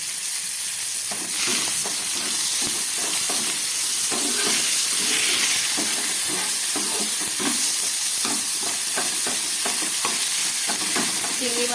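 Shrimp with salt and turmeric paste sizzle continuously in a hot pan, a loud even hiss with scattered crackles and occasional stirring scrapes throughout.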